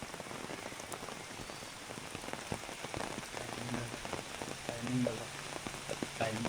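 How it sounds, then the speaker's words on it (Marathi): Steady rain patters on surfaces at a leafy hidden spot in Malad, Mumbai, a dense, even hiss throughout with a faint murmur of voices beneath. "मस्त पाऊस पडतो"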